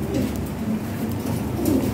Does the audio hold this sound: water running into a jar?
no